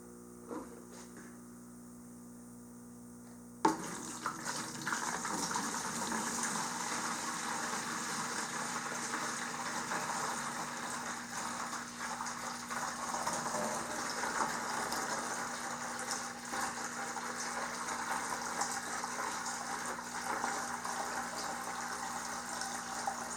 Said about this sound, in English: I've poured in a little more than a gallon of water